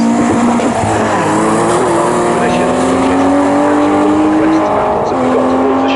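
Race cars, including a Talbot Sunbeam Lotus, scream at full speed around the Snetterton circuit, with loud, rising and falling engine notes under a commentator's continuous voice.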